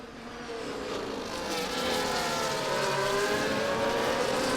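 A field of race cars in a racing video game accelerates away from a safety car restart at Bahrain, a dense high-pitched engine whine that rises in pitch and volume over several seconds.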